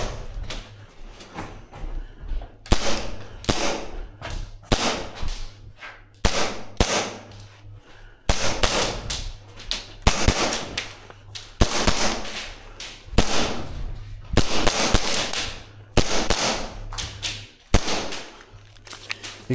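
Tokyo Marui Chisato airsoft pistol fired in close-quarters CQB play: sharp, loud gas-blowback pops ring out in quick irregular bursts and single shots, each with a snappy mechanical clack, over a low steady background hum and no talking.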